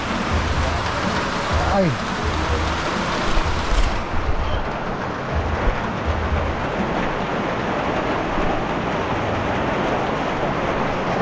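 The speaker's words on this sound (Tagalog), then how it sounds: "Biglang bumagsak yung malakas na ulan." Heavy rain suddenly pours down during an afternoon bike ride, a dense, loud, continuous hiss that fills the whole stretch, with a brief exclamation from a rider.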